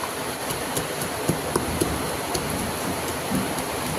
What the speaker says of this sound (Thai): ฝนตกหนักเลยค่ะ ไม่รู้ได้ยินเสียงครูพรหรือเปล่านะคะ หนักมากฝนตกหนักมาก